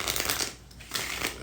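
Shuffling of a pocket-size oracle card deck: close, soft riffling and sliding of cards in two quick bursts separated by a brief pause.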